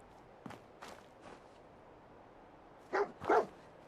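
A dog in the Fallout 4 video game gives two sharp, close barks in quick succession, preceded by faint shuffling steps and soft noises.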